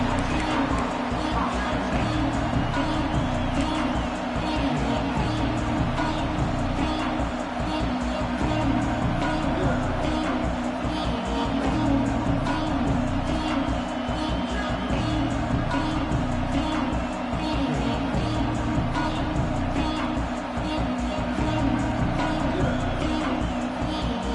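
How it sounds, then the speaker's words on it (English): A large stadium crowd roars steadily at a Notre Dame versus Ohio State college football game, a dense continuous wash of noise with a broadcast commentator talking over it throughout. "This crowd ready to make its presence known."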